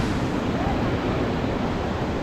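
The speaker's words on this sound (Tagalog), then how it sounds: "Dagat alon" Sea waves wash steadily against a rocky island shore in La Union, a dense, continuous roar of surf heard up close, with wind buffeting the microphone throughout.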